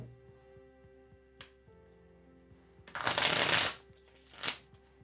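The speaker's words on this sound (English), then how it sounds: "I'm shuffling." Tarot cards are shuffled by hand in a quiet room, a loud riffling burst in the middle followed by a shorter flutter, over a faint steady hum.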